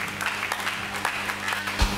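A church congregation claps briefly during a Sunday sermon, a short patter of applause, moderately loud and fairly close.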